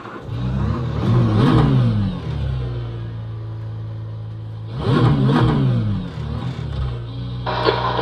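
Car engine in the Forza racing game on a home theater system, revving hard twice with rising and falling pitch sweeps, settling to a steady idle drone between the loud, close bursts.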